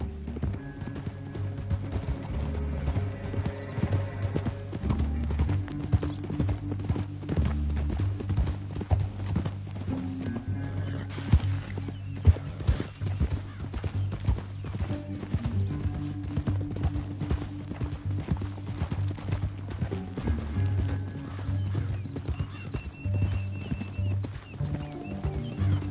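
Horses gallop through a canyon in the Western video game Red Dead Redemption 2, a continuous rhythmic clip-clop of hooves over a low, rumbling game score, with an occasional faint whinny and no talking.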